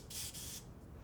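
A Lysol aerosol spray can releases two quick, close hissing bursts, each a fraction of a second, over a faint background rumble.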